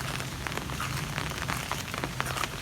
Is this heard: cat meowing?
no